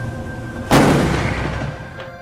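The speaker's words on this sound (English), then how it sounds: "fuego libre, un disparo" A single sharp, loud gunshot fired by the Argentine Coast Guard at a Chinese squid jigger at sea off Patagonia, a sudden broadband crack that decays over about a second over a steady low ship engine hum.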